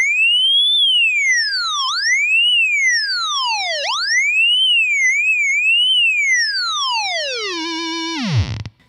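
VVco Pedals Theremin effect pedal, a loud wailing tone that swoops up and down in repeated arcs, climbing in pitch each time it is engaged, then dropping sharply at the end.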